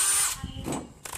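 A DeWalt brushless drill whines at high speed, then its motor sound breaks into short, uneven bursts over about a second, close and fairly loud.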